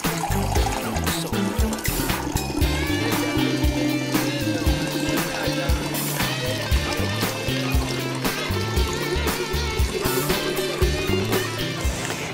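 Water poured into a hydrangea arrangement with stones laid over a leaf, a continuous splashing trickle running steadily throughout at close range.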